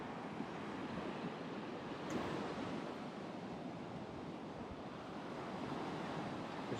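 Surf and wind at Koki Beach Park on Maui's Road to Hana, a steady broadband wash of breaking waves with gusty wind buffeting the microphone, continuous and fairly distant, with no voices.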